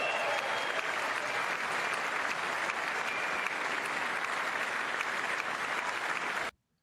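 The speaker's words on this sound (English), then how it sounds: "Oh, the applause." Audience applause in the chamber at the State of the Union address, a loud, steady wall of dense clapping lasting several seconds before cutting off abruptly.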